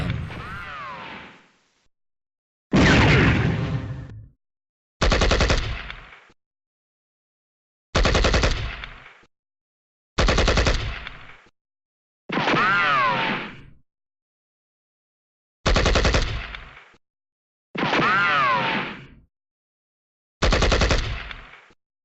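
Machine gun fire in a modern war game set in a China–Vietnam conflict, nine separate loud bursts, each lasting a second or so and split by clear silent gaps.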